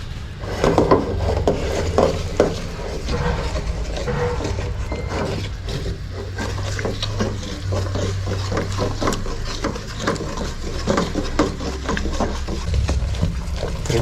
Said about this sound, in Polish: kręcimy, kręcimy, aż wszystko się nam połączy